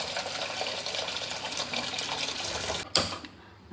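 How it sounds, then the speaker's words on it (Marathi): Tap water runs into a cooking pot, filling it halfway, a steady close splashing stream that cuts off sharply near the end and leaves quiet. "अर्धा टोप पाणी भरून घ्यायचं"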